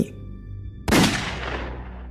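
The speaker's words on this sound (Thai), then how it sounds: "พลันเสียงปืนนัดหนึ่ง เกิดแผดลั่นขึ้นในพื้นป่าไกลๆ" One sudden gunshot cracks out in a distant forest over a quiet humming background, its echo rolling away and slowly fading over the following second.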